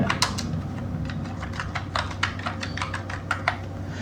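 Steady clicking of keys on a computer keyboard, close and fairly quiet, with irregular quick taps and no talking.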